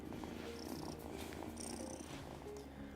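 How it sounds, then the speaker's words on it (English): A cat in the farming game Wylde Flowers purrs softly and rhythmically while being petted, a low, quiet, steady rumble with faint chime-like game tones over it. "I always like to pet this cat every single time I see it."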